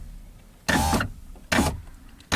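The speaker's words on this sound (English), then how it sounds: "Wind the window down until you see the 10mm bolt clamps" Driver's door window on a right-hand-drive Mk1 Skoda Fabia winds down in short bursts, a close electric motor whir running about a third of a second, then again, with a third start cut off at the end.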